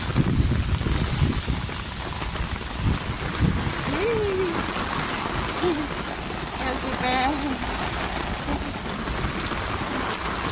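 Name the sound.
heavy rain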